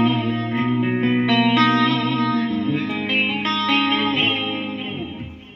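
Electric guitar on a clean tone through a Line 6 POD HD500X multi-effects unit, strummed chords and picked notes with light reverb and shimmer, fairly soft and steady throughout.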